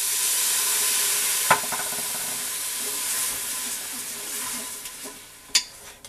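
Rice frying in oil in a home kitchen hisses and sizzles steadily as about 200 ml of white wine is poured in, with a couple of sharp clinks from a pan or spoon.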